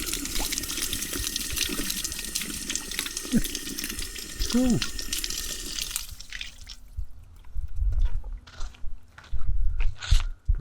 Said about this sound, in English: Oh, fresh water.